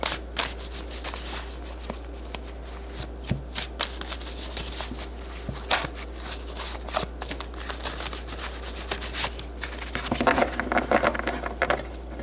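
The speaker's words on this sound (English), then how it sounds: "So let's pull some tarot cards to get a better feel of how this energy plays out" Tarot cards shuffled by hand in a steady run of soft riffling and rubbing flutters, close and fairly quiet, with a denser burst of card noise near the end and no talking.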